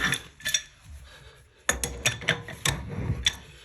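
A shower drain part is worked loose by hand, giving close metallic clinks and ratcheting clicks in short irregular bursts, with a quiet pause before a louder cluster of scrapes and taps.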